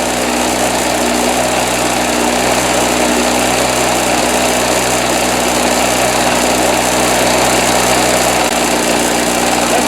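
Harbor Freight Storm Cat 2-cycle generator running with the choke partly on, a loud, continuous, close buzzing drone from the small engine, steady and unbroken with no talking.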